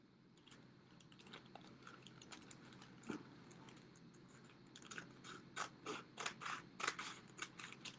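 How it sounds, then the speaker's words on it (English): Scissors snip coffee filters into strips for a rainbow turtle craft, a run of close, crisp cuts that grow quicker and louder toward the end, with no talking. "So first, we're going to cut them up into strips like this."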